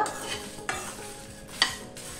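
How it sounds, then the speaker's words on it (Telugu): Dry red chillies, coriander seeds, curry leaves and cumin dry-roasting over a low flame in a pan for gutti kakarakaya fry, with steady crackling and a couple of sharp scraping stirs, close and alone. "ప్యాన్లోకి ఎండుమిరపకాయలు వేసుకోవాలి, అలాగే ధనియాలు, కరివేపాకు, జీలకర్ర వీటన్నిటిని లో ఫ్లేమ్ మీద"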